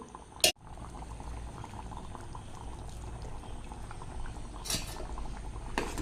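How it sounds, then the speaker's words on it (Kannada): Curry with coriander leaves bubbles and simmers steadily in a pot throughout, with a sharp clink of metal near the start and another toward the end. "ಒಂದು ಚಳವನ್ನು ಮುಚ್ಚುತ್ತೇನೆ ಚೆನ್ನಾಗಿ ಕುದಿ ಬರಲಿ"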